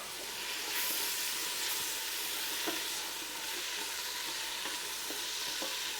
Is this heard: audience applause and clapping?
no